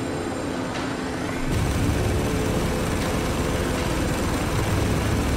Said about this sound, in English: This helicopter can take a beating.